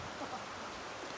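Rain falling in Kochi, a dense, even wash of drops hitting surfaces nearby with no break and no voices.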